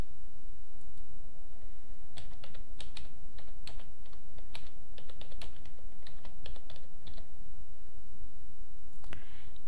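Typing on a computer keyboard while working in Photoshop, uneven bursts of close, crisp key clicks over a steady low background hiss, with no talking.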